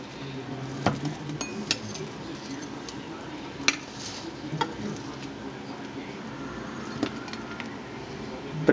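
Plates and cutlery clink sparsely while rosemary chicken and crispy potatoes are dished up, with light scattered taps and chinks over a quiet kitchen background.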